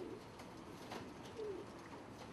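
Pigeons cooing softly at a pigeon market, a few low rolling coos rising over steady background noise at moderate distance.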